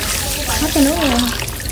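Water pours and splashes into a hot pot of Vietnamese pangasius catfish and passion fruit hotpot, already simmering with lemongrass, a steady rushing stream close by with a faint voice-like tone drifting over it.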